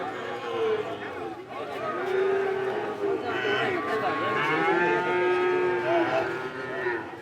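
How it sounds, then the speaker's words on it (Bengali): Calves mooing at a crowded cattle market in Jamalpur, several drawn-out bellows rising and falling close by over a steady murmur of crowd chatter and someone talking. "এই পাশে দেখতে পাচ্ছি অসংখ্য বাছুর।"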